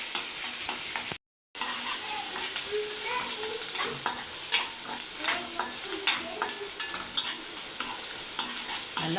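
Chopped onions sauté and sizzle in an oil-filled pan while a spoon or spatula stirs them, producing a continuous soft frying hiss punctuated by scraping clinks, close and moderately quiet, with a short silent gap early on.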